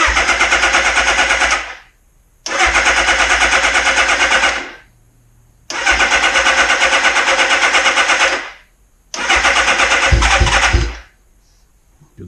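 A 1981 Suzuki GS650GL motorcycle engine, freshly rebuilt carburetors, running in four loud close bursts of rapid firing with short silent gaps between them.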